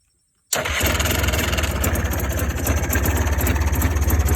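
A 2001 BMW X5 3.0 engine cranks and catches without choke after a short silence, then settles into a loud, steady, close idle.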